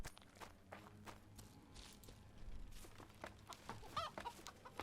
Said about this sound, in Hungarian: Aha, tyúk.